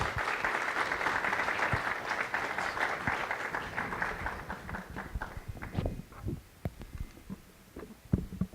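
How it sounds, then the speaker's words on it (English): Audience applause, a dense burst of clapping that gradually thins out into scattered claps before fading away. "let's give her a round of applause"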